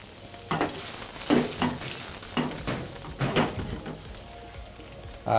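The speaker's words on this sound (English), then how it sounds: "Make sure that the pan is hot enough. And then you add your onions in that pan." Onions frying in a hot pan, with a steady sizzle broken by repeated scraping stirs and light clinks of a utensil against the pan, close and moderately loud, with no talking.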